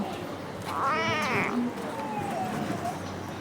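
A sick kitten meows in a drawn-out, wavering cry, loud and close, followed by a softer trailing mew, with a low background hum.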